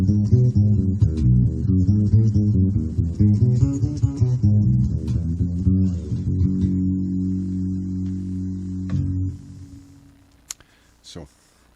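Dark, rounded electric bass, a Gazzbass Scarab Series II Standard with tone rolled back, plays a busy line of low notes, then a long sustained note fades out, followed by a few faint clicks.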